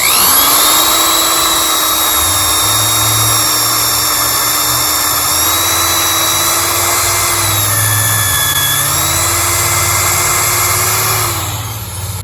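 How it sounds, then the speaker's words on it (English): A power drill whines steadily at close range, its motor pitch wavering slightly as it bores plug holes into a log, then winding down at the end. "we just got our first set of holes drilled"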